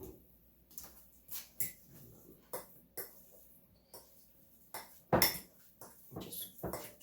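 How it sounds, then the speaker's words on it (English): A fork mashes baked potato in a dish, giving a series of irregular sharp metallic clinks and scrapes against the plate, close and distinct over near silence. "Just keep mashing this with the fork until it's all a nice, smooth, creamy, blended mess"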